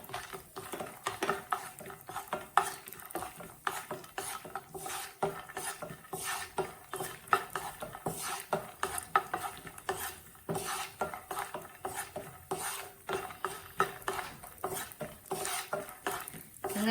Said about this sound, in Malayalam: അതിലേക്ക് നമുക്ക് 1 സ്പൂൺ നെയ്യ് ഒഴിച്ചു കൊടുക്കാം. നെയ്യ് നന്നായിട്ട് ചൂടായി കഴിഞ്ഞിട്ടുണ്ട്. ഇനി നമുക്ക് എടുത്തു വെച്ചിരിക്കുന്ന കപ്പലണ്ടി ഇട്ട് കൊടുക്കാം.